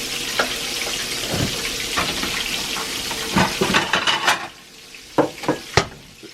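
Chicken sizzles in a cast iron pan while utensils clink and scrape against it, with sharp knocks of tongs or pans near the end.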